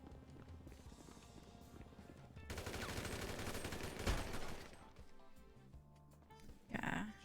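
Rapid bursts of video game gunfire crackle through a dense, busy mix, peaking sharply around the middle before tapering off.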